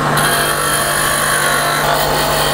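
Wood spinning on a lathe while a skew chisel makes a peeling cut, a loud, steady rushing hum with a constant motor drone and scraping texture, close by and unbroken.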